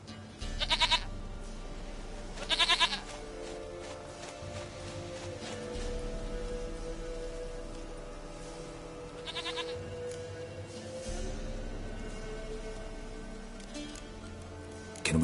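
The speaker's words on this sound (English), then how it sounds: "Why, not even a white wolf can make up for a missing goat." A goat in the video game Witcher 3 bleats a few times, short and fairly faint, over a steady low ambient game soundscape.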